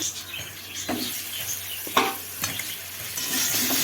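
Spices, tomato, salt and potato sizzle and fry in oil in a pan for a tengra fish curry, a steady close hiss broken by a few sharp stirring scrapes, with no talk.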